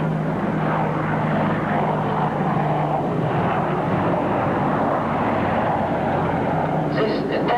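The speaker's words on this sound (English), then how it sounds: "Arrivant maintenant à la verticale du terrain, le AH-64 Apache, hélicoptère d'attaque avancé produit par la maison Hughes des États-Unis d'Amérique." An AH-64 Apache attack helicopter, built by Hughes, flying overhead at an air show, its steady engine and rotor roar continuous and fairly loud throughout, with a commentator's amplified voice mixed in.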